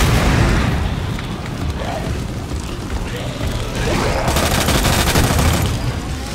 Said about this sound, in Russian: У нас есть одна граната,